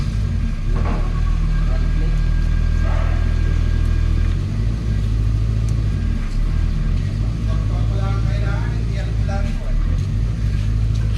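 Engine of a 2012 Hyundai Accent with a check-engine fault, a steady low rumble that swells and eases slightly throughout, while people talk over it nearby.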